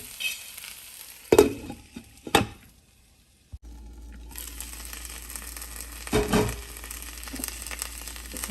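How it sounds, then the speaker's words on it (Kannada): Elephant yam pieces frying in a covered pan, a quiet sizzle broken by a few sharp clatters of the lid or utensil, then a steadier hiss continuing alone. "ಸೊ ಇನ್ನೊಂದು 5-10 ನಿಮಿಷ ಇದನ್ನು ಹೀಗೆ ಫ್ರೈ ಮಾಡೋಣ, ಕವರ್ ಮಾಡಿ."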